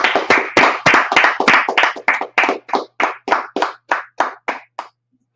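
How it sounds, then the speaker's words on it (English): Steady rhythmic hand clapping from an audience at a scripture class, about eighteen sharp claps in even time, loud and close, stopping abruptly. "Let's clap it up."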